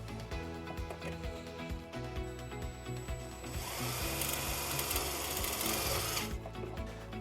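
A power drill drives a self-tapping screw into the side of a 2017 BMW 530i to ground the white wire of a trailer wiring harness. The whirring burst runs loud for about three seconds midway, with no talking.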